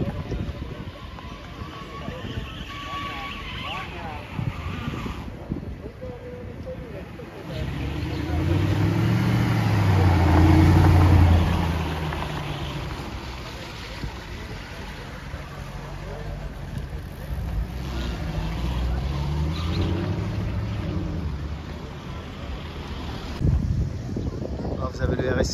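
A Ferrari SP3 Daytona drives past on the streets of Monaco, its engine swelling from a distant rumble to a loud, close pass before fading, with wind buffeting and people talking nearby.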